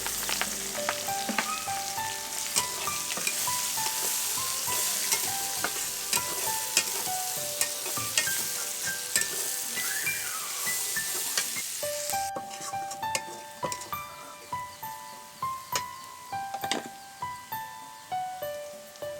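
Onions and green chillies fry in a pan after fish, a steady bright sizzle with repeated scraping stirs that become sharper, distinct strokes toward the end, close and with no talking.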